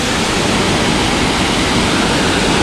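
Panwal waterfall roars as one steady, loud, broadband rush of falling water, close and unbroken, with no voices.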